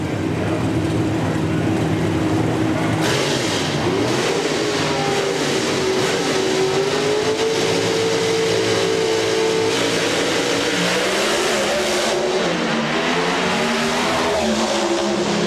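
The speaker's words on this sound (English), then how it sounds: "Chevy S10 trucks have dominated this class this weekend." Chevy S10 drag racing trucks at the 1999 NHRA Pennzoil Nationals in Richmond, engines roaring loud and close with rising revs, continuous and without talk.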